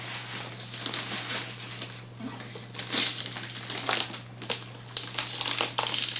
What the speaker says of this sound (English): I always love unwrapping machines.